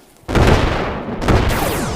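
A booming explosion in the video game Animal Company hits suddenly and loudly, then a broad roaring blast rumbles on for about two seconds with a second surge partway through.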